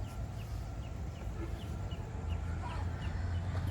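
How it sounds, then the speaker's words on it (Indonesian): Small free-range village chickens cluck faintly in a home yard garden, their soft calls scattered over a steady low outdoor rumble. "Seperti di sana ada juga ayam kampung."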